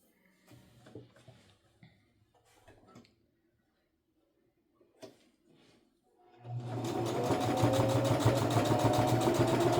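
A sewing machine stitches a makeup bag: after several seconds of faint taps and handling, a loud, close, steady mechanical whirr starts up and keeps running.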